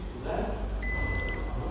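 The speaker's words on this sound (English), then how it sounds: "So it's the same, continuous beeping." A digital multimeter's continuity beeper sounds while its probes test a defective SMD medium-power transistor: a single steady electronic tone holds for about half a second over a low background hum.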